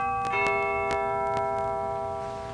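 A bell rings at night, with a few clear struck tones whose long ringing overtones hang and slowly fade, over a quiet, steady background.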